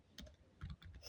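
Quiet computer keyboard typing: a handful of soft key clicks in short uneven bursts, close up, with no voice over it.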